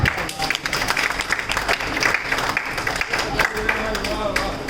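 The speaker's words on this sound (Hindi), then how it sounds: "बजाओ तालियां" A large audience at a Rajasthan poetry gathering breaks into dense, sustained applause. The clapping is loud and continuous, a crowd murmur runs beneath it, and no single voice stands out.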